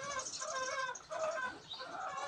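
A hen clucks and murmurs softly while settling into a nest of shredded coconut husk, its first time brooding; continuous close vocal calls with brief pauses, no talking.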